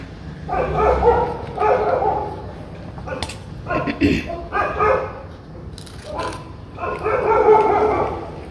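Street dogs barking in a residential lane, several sharp barks and yips in short bursts at moderate distance, heard over ongoing talk in a home kitchen.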